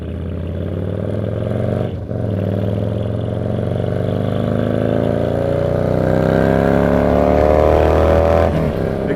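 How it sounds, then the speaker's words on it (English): Vehicle engine revving under an exaggerated throttle pull, a close, steady drone rising in pitch over several seconds after a brief dip. "Exaggerating that throttle pull."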